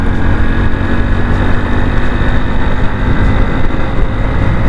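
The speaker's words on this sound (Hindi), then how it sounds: "अभी मैंने बाइक का जो एक्सेलरेशन है वो पूरा मिला दिया है" A Hero Splendor Plus BS7 2023 motorcycle engine runs at full throttle, a loud, steady, dense drone with constant exhaust roar that stays unbroken throughout.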